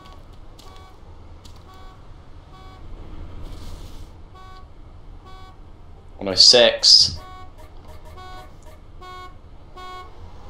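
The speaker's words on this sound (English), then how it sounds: "Come to the beeping car." Two loud, close car horn blasts sound in quick succession in the Arma 2 video game, standing out over a steady game ambience with regular faint beeps while players talk.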